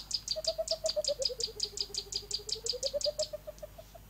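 Rapid, evenly spaced chirps repeat in a long string out in the Tanzanian bush, with a higher trill pulsing above a lower whistled note that dips and rises again, clear and fairly close.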